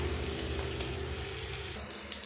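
Ragi roti frying on an oiled pan with onions, giving a soft, close sizzle that eases off after a moment.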